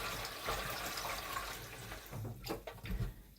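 Running water rinses couscous in a kitchen for a few seconds, a soft continuous splash and trickle with small shifts in flow near the end.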